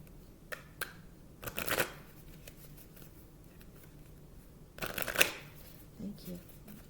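A deck of Angels and Ancestors oracle cards being shuffled in two brief riffling bursts, soft and close, with a few light taps between them.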